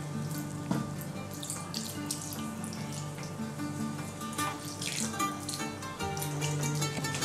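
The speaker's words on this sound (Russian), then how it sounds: "Теперь заливаем все это дело небольшим количеством воды." Water pours into a pan of manti, a steady close splashing trickle lasting several seconds with faint clinks, no talking.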